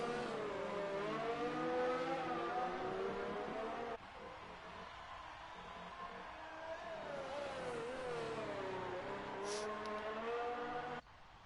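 Racing car engine in a video game at Singapore's Marina Bay circuit, a steady high whining drone with stacked rising and falling harmonics as the car accelerates and shifts through a lap, loud and continuous with a brief dip partway.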